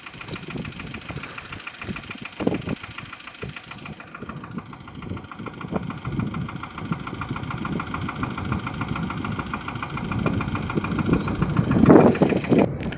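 A mid-pitched tractor engine idles and rumbles steadily throughout on a farm, growing slightly louder toward the end with a brief rattling surge.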